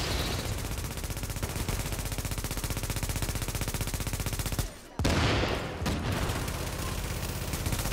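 Shotgun fire in the video game The Division comes as a rapid, rhythmic stream of loud shots, broken by a brief pause before the firing resumes.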